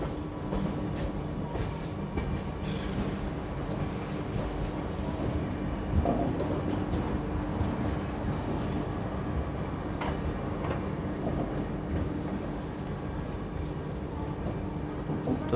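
Ranthambhore Express rolling along the Kota–Ratlam section of the Delhi–Mumbai main line behind a Vijayawada-shed WAP-7 electric locomotive. Steady, loud wheel-and-carriage rumble continues throughout with no voices.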